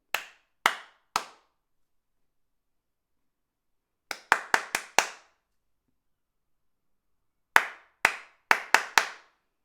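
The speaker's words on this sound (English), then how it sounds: "remember, you are copying every pattern that I clap" Sharp hand claps in rhythmic patterns for a clapping game: a group of three, then a quick run of five, then another five-clap pattern, each crisp and close with silent gaps between.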